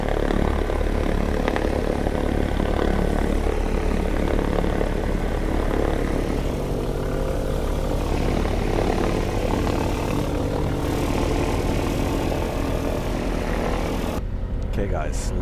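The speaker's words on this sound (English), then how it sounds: "fantastic sound, the volume, can feel it in your stomach, the vibrations of the engines" Twin propeller engines of a 1944 DC-3 "Betsy" roar loud and steady while taxiing, heard from inside the cockpit in New Zealand, with voices talking under the engine drone.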